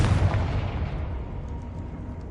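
A Confringo blasting spell in Hogwarts Legacy sets off one loud, close explosion with a deep booming onset, then a rumbling tail that slowly fades.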